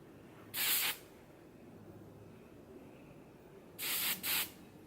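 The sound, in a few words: hairspray being sprayed on hair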